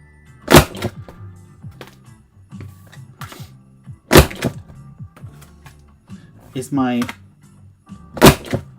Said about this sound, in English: banging, hole punching annoying to anybody yet?